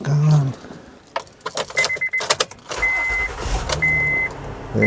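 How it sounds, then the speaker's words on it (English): Keys jangle before a 2015 Honda Pilot Touring engine cranks and catches, then settles into a steady idle, with repeated electronic chimes sounding over the running engine nearby. "Let's turn the car back on."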